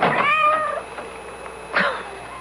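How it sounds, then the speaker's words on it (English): A cat meows at a front door in a night-time radio mystery drama, one drawn-out, wavering meow followed by a shorter second one, close and clear with no voices over it. "That cursed cat."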